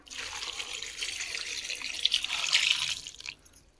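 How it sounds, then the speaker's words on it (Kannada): Water pours into a pot of drumstick bassaru with dal, greens, onion and tomato: a close, steady splashing stream lasting about three seconds, swelling slightly before it tapers and stops. "ನಮ್ಗೆ ಎಷ್ಟು ಬೇಕು ಅಷ್ಟು ನೀರು ಹಾಕ್ಕೊಳ್ಳೋದು."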